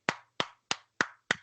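Five evenly spaced hand claps sound in a quiet room during a language lesson, each a dry, sharp smack with silence in between.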